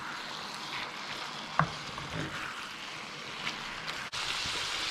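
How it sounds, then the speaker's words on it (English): Savoury mince with paste and Worcestershire sauce sautéing in a pan, giving a soft continuous sizzle with a few faint stirring scrapes and a brief clink. "I'll just stir that paste and Worcestershire sauce through our mince and just let it continue to saute for a little bit longer."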